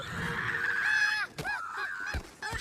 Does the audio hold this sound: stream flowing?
no